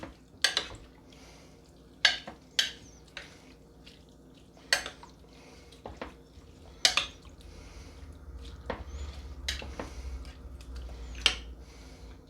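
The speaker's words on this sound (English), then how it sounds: "Give it a quick stir." Sausage and sauerkraut get a quick stir in a pot, with scattered spoon knocks against the metal and soft wet squishing between them, close and moderately loud.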